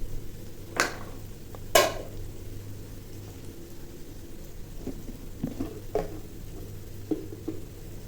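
Onions fry with salt in a pan as a base for cabbage fry. A soft, steady sizzle hisses throughout, with a couple of sharper utensil scrapes near the start.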